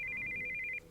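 Incoming-call ringtone from a cell phone in Steins;Gate 0, a steady electronic trill ringing loud and alone for most of a second before cutting off, leaving a low background hum.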